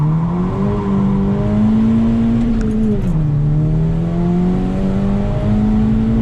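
A Golf V GTI launches hard from a standing start, its engine droning loud and close with a steady rising pitch, briefly dipping mid-pull at a gear change before climbing again, heard alone without voices.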